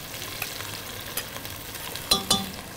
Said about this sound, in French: Nous de l'huile sauf, nous mettons nos oignons. Nous fricassons.